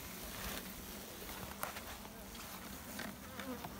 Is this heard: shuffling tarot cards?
no